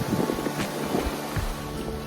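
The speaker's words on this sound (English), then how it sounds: "Hopefully you can hear me through all of this wind." Strong gusts buffet the microphone at a seaside campground on the Gulf coast, a continuous roaring rumble with steady low-end blustering and surf-like wash, no voices heard.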